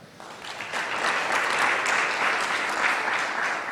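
Audience applause welcoming a speaker named Warren onto the stage at a Black Restaurant Week event on new innovations for emerging markets, a dense, steady round of clapping that swells in the first moments and then holds loud for several seconds.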